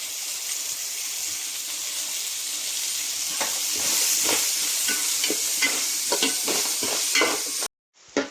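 Onions, green chilies, ginger and garlic sauté in a pan of hot oil for a beef cutlet filling, a steady loud sizzle broken by scraping stirs, ending in a brief gap and a final clatter.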